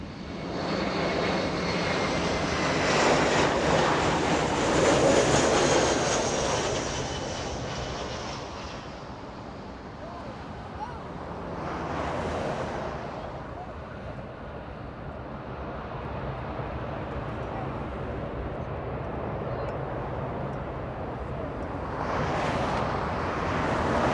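A Delta airliner on the departure runway at Los Angeles International, its engines roaring loud and broad, swelling, easing off, then building again in distinct surges, with wind buffeting the microphone and no talk.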